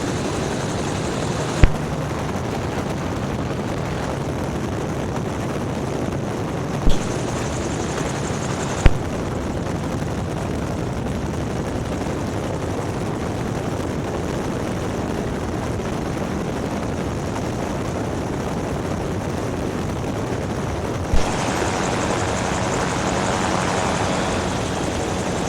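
A gyrocopter engine drones steadily through a circuit flight on the downwind leg as power is fed in, heard as constant loud cockpit engine and rotor noise with a few brief clicks and no talking.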